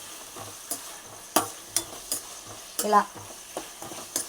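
Dried fish frying in hot oil, a steady bubbling sizzle punctuated by repeated clinks and scrapes of a spatula against the pan, close up, with one brief spoken word.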